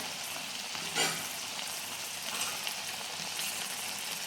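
Byadgi red chili and spices drop into sizzling misal masala frying in a pan, a brief burst of crackle over steady, close hissing with no talk.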